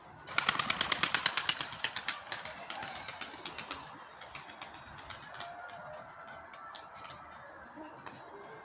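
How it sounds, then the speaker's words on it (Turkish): A Sabuni tumbler pigeon takes off near a coop: a rapid run of sharp, rhythmic wing claps starts loud and close, then thins and fades as the bird climbs away, leaving faint, sparse flaps over a quiet outdoor background. "Bir tane sabunimiz uçuyor"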